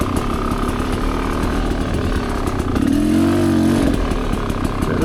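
A Rieju Ranger motorcycle rides the Tin Cup Springs single-track trail, its engine droning steadily close by, then briefly revving and climbing in pitch before settling back, with light rattling underneath.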